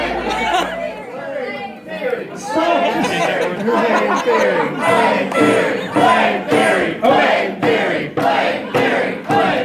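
Festival crowd at a closing ceremony, loud overlapping cheers, shouts and chatter in a packed room, surging in repeated bursts with some laughter mixed in.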